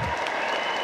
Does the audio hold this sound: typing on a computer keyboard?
no